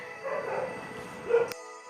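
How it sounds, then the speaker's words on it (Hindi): Dogs bark somewhere in the background, faint and distant, as a few scattered yips and barks rising over a steady low hum. "डॉग के बार्किंग आवाज़ सुन रही होगी, यानी कि कुत्ते पीछे भौंक रहे हैं"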